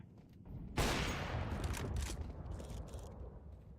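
A thrown incendiary grenade in Counter-Strike 2 erupts into a loud, sudden whoosh of flame that keeps roaring and crackling close by for several seconds, with gunfire-like bursts mixed in.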